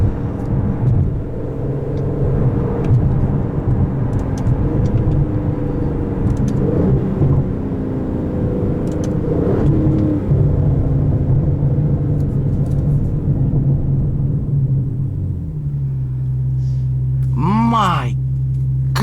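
A 2017 Aston Martin DB11 V12 accelerates hard from inside the cabin, its engine roaring loudly and climbing through gears, then settling to a lower drone with a short rev near the end.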